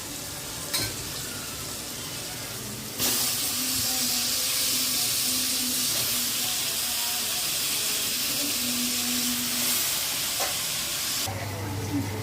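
Eggplant pieces dropped into a hot pan of oil seasoned with turmeric and salt for a black-eyed pea curry, setting off a loud, steady sizzle and hiss that holds for several seconds alongside occasional stirring.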